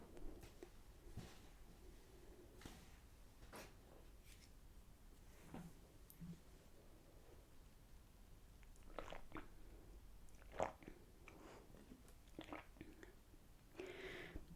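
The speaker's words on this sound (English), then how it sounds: "after I've just had a sip of water" Quiet, close mouth sounds of someone sipping and swallowing water, with soft wet clicks and a faint gulp against a low background hiss.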